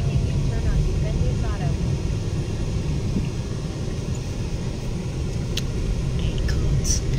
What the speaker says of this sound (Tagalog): Oh, nakita nyo may aeroplano. Oh, airplane.